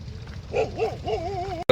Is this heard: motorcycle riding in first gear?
no